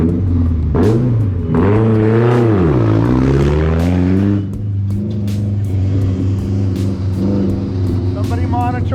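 Baja 1000 race vehicles roar off the start line, engines revving and rising in pitch as they accelerate, loud and close, with people talking and shouting over the noise.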